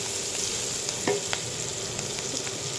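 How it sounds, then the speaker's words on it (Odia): Onions frying in a pan with chili powder, a steady close sizzle running throughout with a couple of brief scraping stirs in the middle. "ଲଙ୍କା ଗୁଣ୍ଡରେ ଏମିତି ପିଆଜ ପକାଇ ଭାଜିଦେଲେ କଲର୍ ବି ଭଲ ଆସିବ"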